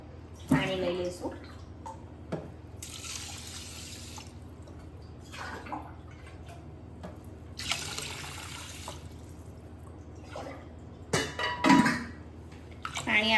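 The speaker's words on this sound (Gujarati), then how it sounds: "આપણા ચોખા ધોવાઈ ગયા છે, તો હવે આપણે એમાં પાણી લઈ લઈશું." Water is poured into a pot of washed rice for masoor pulao, with two broad rushing spells of pouring and a few sharper splashes and clinks near the end, heard close over a quiet kitchen background.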